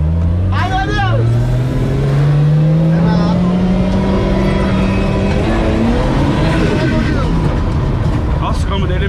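A car engine revs and changes pitch through a test drive in a manual car with a stiff gearbox, the rising and falling engine note loud and near under excited talking and shouts from the people inside.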